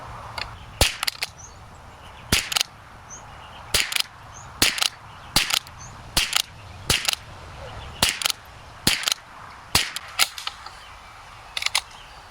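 Remington Standard Velocity 40-grain rimfire rounds are fired one at a time outdoors, about a dozen sharp cracks spaced roughly a second apart, close and distinct over quiet background.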